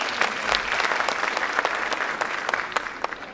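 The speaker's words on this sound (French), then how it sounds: "Mesdames et messieurs, sous vos applaudissements, Selwa Zlim." An audience applauds at the LeaderSHE Talks conference at École Mohammadia des Ingénieurs, with dense, sustained clapping from a crowd that stays lively and even for a few seconds.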